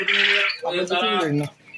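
A large broiler chicken of about 11 to 13 kilograms on a poultry farm lets out two short, harsh squawks close by, loud and abrupt.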